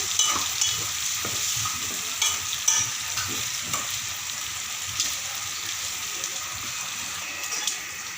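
Blood being stirred into meat frying in a pan, a continuous sizzle under scraping spoon strokes and a few sharper clacks against the pan, no voices.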